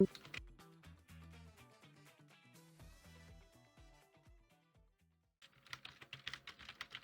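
Rapid clicks of a computer keyboard as someone types chat during a Minecraft session on a multiplayer server. The clicks sit over game music that pauses briefly, then the typing turns brisker and louder near the end.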